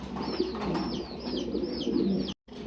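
Fancy pigeons coo continuously at close range in repeated soft, rolling phrases with a few chirps, broken by a brief moment of silence near the end.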